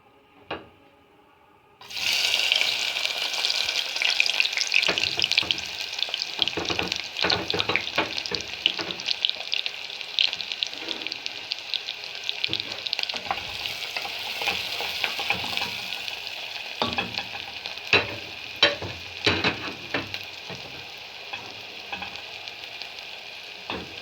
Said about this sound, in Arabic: تعالوا بقى نبدأ الاول نعمل الرز الصيادية. بسم الله. هنحط يلا البصل